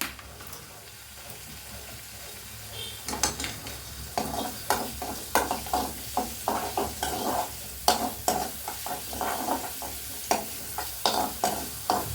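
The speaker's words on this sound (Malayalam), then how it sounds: "ഉള്ളി ചതച്ചത് താളിച്ച് മൊരിച്ച് ഇടാം അതിലേക്ക്" Crushed shallots tempered and fried in oil for a ladies finger charu curry, a steady sizzle with repeated scraping stir strokes that grow louder and more rhythmic after a quiet start, close up with no talking.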